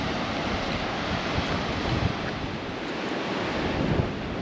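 Strong wind buffets the microphone on a South Australian beach on the Eyre Peninsula, a steady roaring rush blended with the broad wash of ocean surf, with occasional low gusty thumps.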